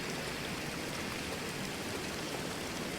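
Steady rushing water ambience from the survival game The Long Dark on a marshy map, a continuous broadband wash like a stream or rain, even and unbroken throughout.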